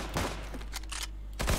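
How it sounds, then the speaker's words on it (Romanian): Gunfire in CS:GO's Danger Zone battle royale mode, with sharp shots arriving in short bursts at the start, middle and end, heard plainly with no talk over it. "ăla trage în mine de la geam"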